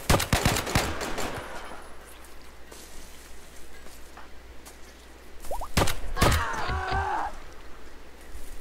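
Turret gunfire in RimWorld, a few sharp shots clustered at the start and more near the end, with quieter game ambience and small chirpy effects between the bursts.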